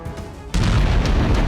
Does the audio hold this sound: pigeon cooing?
no